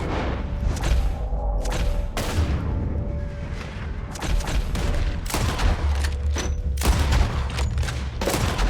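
Dense game gunfire in Red Dead Redemption 2, a continuous fusillade of rifle and pistol shots with heavy thuds and booms, loud and sustained throughout a battle.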